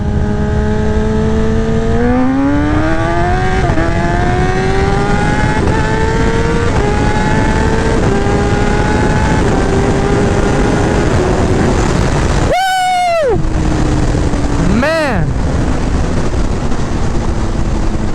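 Kawasaki ZX10R KRT Edition sportbike at full throttle in first gear, the loud engine whine climbing steadily in pitch, then a sharp upshift with a brief drop and a second quick rev burst, all close and loud.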